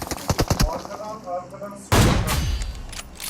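Gunfire in the mobile battle-royale game PUBG Mobile: a rapid burst of sharp shots, then a louder, denser barrage of close firing, with some voice activity mixed in.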